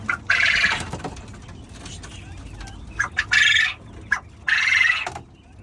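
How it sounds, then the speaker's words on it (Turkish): A 45-day-old young quail weighing about 450 grams, only just beginning to call, gives three bursts of harsh raspy calls, each close and loud, with quiet gaps and low background noise between them. "Bu 45 günlük yavru. Daha yeni yeni ötmeye başlamış."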